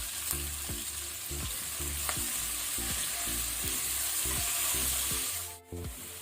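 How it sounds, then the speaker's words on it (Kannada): Onions frying in a pan for mutton masala give a close, steady crackling sizzle throughout, with light stirring scrapes and soft rhythmic music playing underneath. "ಆನಿಯನ್ ಬೇಗ ಫ್ರೈ ಆಗುತ್ತೆ"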